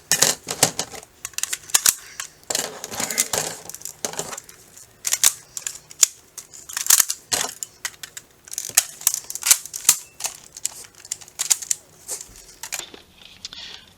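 A Nerf Modulus Tri-Strike blaster is assembled by hand, with a string of sharp plastic clicks, snaps and rattles at irregular intervals, close and without speech.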